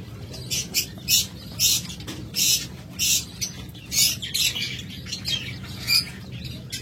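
Lovebirds, cockatiels and budgerigars at a bird farm make repeated bursts of high chirping close by, over a steady low background hum.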